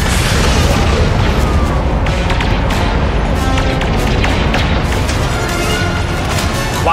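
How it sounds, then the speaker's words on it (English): Heavy explosions roll in from a Star Destroyer bombardment in the Star Wars Outlaws game, a dense, continuous barrage of deep booms and bursts that stays loud throughout with no speech over it. "We have a Star Destroyer moving into bombardment position."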